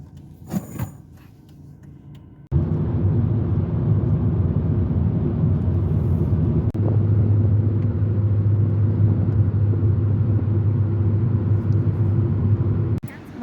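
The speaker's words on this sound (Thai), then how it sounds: "ขับรถมาเรื่อยๆ" A car drives along a road in Germany in spring, giving a steady low interior rumble that starts abruptly after a short quieter stretch and holds loud and even until near the end.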